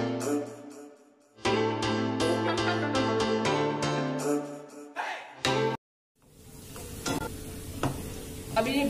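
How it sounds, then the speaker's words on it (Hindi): Sliced onions frying in a pan for dal tadka, stirred with scraping utensil strokes, a close sizzle broken by a brief pause midway and stronger, noisier frying in the last few seconds. "अब इसमें डालेंगे फाइनली स्लाइस प्याज, ब्राउन होने तक इसको हिलाना है अच्छी तरह से ताकि जले नहीं।"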